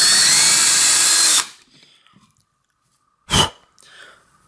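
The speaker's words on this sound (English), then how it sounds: "It's aluminum, so it shouldn't be too difficult to drill through." A power drill bores through aluminum on an older bike frame held in vice grips, a loud steady whir for over a second, then a short sharp burst of the drill after a pause, with light handling noise.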